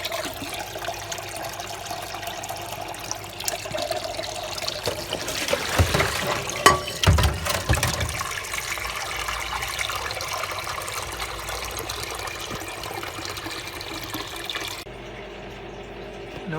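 Bush F721QW washing machine on a fast wash rinse, water rushing and trickling into the drum with a steady low hum, swelling into a louder gush midway before settling and cutting off near the end.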